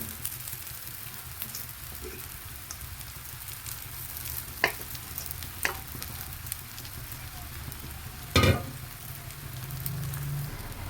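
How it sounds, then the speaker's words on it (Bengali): Chow mein with vegetables and eggs sizzles and fries in oil in a pan, a continuous crackling hiss broken by a few sharp scraping clinks of stirring. "এবার এটাকে কিছুক্ষণ তেলের মধ্যে নাড়াচাড়া করবো"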